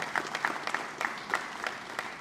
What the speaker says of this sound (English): Can you all join me in giving them a round of applause